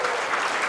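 An audience at the 41st U.S. Open 9-Ball Championship pool match applauds in a brief, dense burst of clapping.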